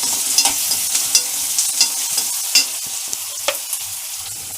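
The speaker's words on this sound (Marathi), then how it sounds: "लसूणचा कलर कसं झालं आता तसंच आपल्याला कांदा देखील भाजून घ्यायचा आहे." Chopped onion fries in a pan with garlic, browning for a wild-tuber bhaji, while a spoon scrapes and stirs in repeated close clinks over a steady sizzling hiss, with no voices.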